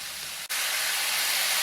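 Vegetables for vegetable biryani sautéing in a pan, a steady broad hiss of frying that continues with one brief break, close and fairly loud, with no talking.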